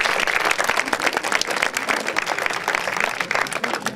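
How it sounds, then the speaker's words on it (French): An audience gives steady, dense applause at a local sports awards ceremony honouring athletes, a continuous wash of many hands clapping, fairly loud and close, lasting several seconds without talk. "Donc on peut l'applaudir."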